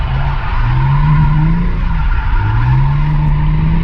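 Mazda RX8 drifting, its tires squealing in long rising and falling howls over a steady loud engine drone, close and continuous.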